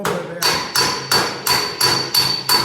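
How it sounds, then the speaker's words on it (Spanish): A metal hammer strikes a car body panel during panel beating, seven sharp ringing blows at an even rhythm about every third of a second, close and loud. "cuando vos le pegás con el martillo"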